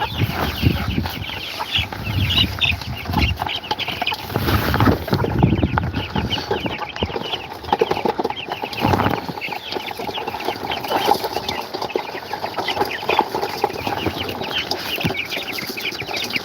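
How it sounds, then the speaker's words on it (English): A flock of hungry broiler chickens clucks and squawks insistently up close, a dense, busy chorus of overlapping calls with scattered louder bursts and no talking. "This is how broilers get when they get hungry. Downright aggressive."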